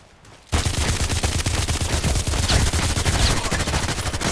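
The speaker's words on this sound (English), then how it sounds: "somebody has a total silencer or something. Because you don't see him shooting. Hidden shots." Rapid automatic gunfire in the online shooter Contract Wars starts abruptly and keeps going as a dense, loud, steady burst of shots, with no speech.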